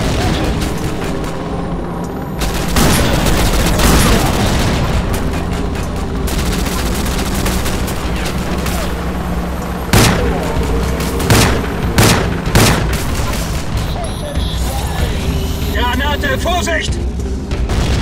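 Grenade blasts and rattling gunfire in the shooter game Rogue Trooper, loud booms and rapid volleys of shots filling the scene, with a few sharp single cracks and in-game voices calling out between them.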